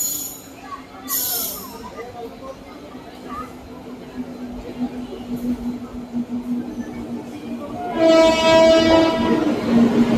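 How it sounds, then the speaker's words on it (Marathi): A Humsafar Express train hauled by a WAP-7 electric locomotive pulls into a platform; its horn sounds loudly near the end over rumbling rail noise, with background chatter earlier. "तर मित्रांनो, आपली ट्रेन आलेली आहे प्लॅटफॉर्मवर"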